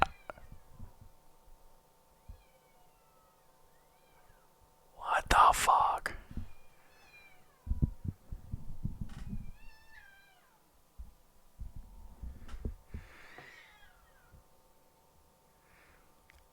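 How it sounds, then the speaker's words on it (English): Cats meowing outside a house, a loud drawn-out yowl followed by several fainter meows and caterwauls, heard under a man's whispering and muttered talk indoors. "I heard fucking cats."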